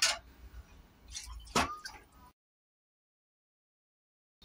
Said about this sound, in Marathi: हे बघा आता पाणी टाकते मी याच्यात